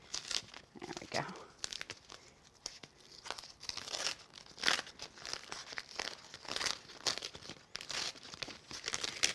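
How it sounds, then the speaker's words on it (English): Backing paper peels away from an embossed craft sheet in a series of crinkly, tearing rustles, close and fairly quiet, broken into short bursts. "And we're going to peel this back."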